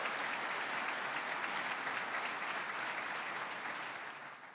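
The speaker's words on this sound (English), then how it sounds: "Kathy Hochul, let's give her a round of applause." Steady, loud applause from a large audience at a 2020 New York State of the State address, a dense wash of clapping holding for several seconds before tapering slightly at the end.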